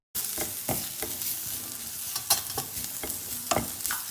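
Turmeric and coriander powder fry in a pan over a medium flame, making a continuous close sizzle with scraping stir strokes coming at a loose, regular rhythm.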